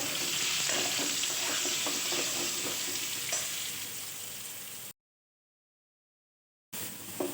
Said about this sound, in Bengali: আলুগুলোকে ভেজে নিচ্ছি সামান্য পরিমাণ হলুদ দিয়ে ভেজে নেব